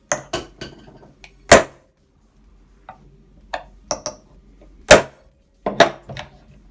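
A bent ice cream spoon taps a Bugaboo Cameleon 3 rear wheel cap back into place: about ten sharp, close clicks and knocks in irregular bursts, separated by short quiet gaps, with no talking.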